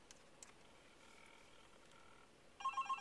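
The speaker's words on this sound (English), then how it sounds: "right now, see, the iPad is dialing." An iPad placing a phone call, a faint quiet hum followed near the end by a few short, rhythmic dialing or ringing tones.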